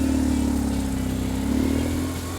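The boxer engine of a 2002 BMW R1100GS motorcycle runs steadily up close, a loud, even low drone with a slight rise in pitch midway.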